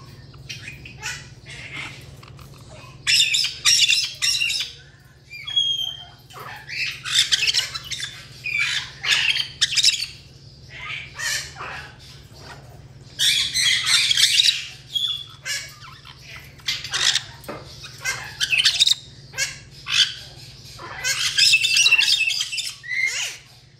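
Caique parrots squawk in a series of loud, harsh bursts that come in irregular clusters, with chirps and shrill calls between them, close to the listener over a steady low hum indoors.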